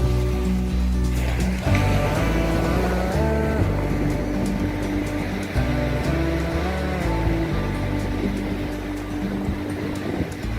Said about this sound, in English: can you hear the roar of the ocean?